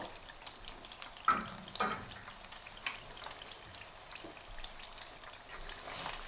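Paneer curry simmering over very low heat in a pan with a little added water, giving a quiet, steady bubbling sizzle with scattered soft pops and crackles throughout.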